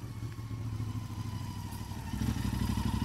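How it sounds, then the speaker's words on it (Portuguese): An old foreign-made motorcycle passes on the BR-319 highway, its mid-pitched engine chugging steadily at a distance and growing slightly louder toward the end, with no voices. "Essa moto aí não é brasileira não."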